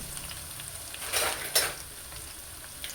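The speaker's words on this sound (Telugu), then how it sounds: "పచ్చిమిర్చి నిలువుగా చీర్చుకొని నాలుగైదు పచ్చిమిర్చి ఒకటిన్నర ఉల్లిగడ్డ డీప్ ఫ్రై చేసుకోవాలండి" Onions and green chillies deep frying in a pan for a liver fry, a continuous soft sizzle heard close up, with two brief louder bursts as the contents are stirred.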